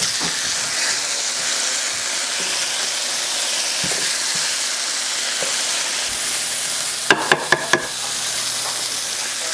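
Large chicken breasts frying in a pan give a steady sizzling hiss throughout, with a few sharp clicks near the end as something taps against the pan.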